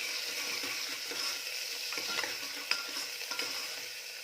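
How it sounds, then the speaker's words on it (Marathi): Finely chopped onion with a little salt frying in hot oil in a pan, a soft continuous sizzle with occasional light scraping clicks from stirring, fairly quiet and close. "कांदा छान रंग बदलेपर्यंत भाजून घ्यायचा आहे"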